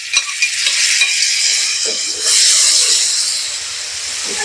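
Vegetables drop into a hot pan with fried chillies for a spaghetti noodle dish and are stir-fried, a loud bright hiss and sizzle with scraping stirs, surging after a brief lull.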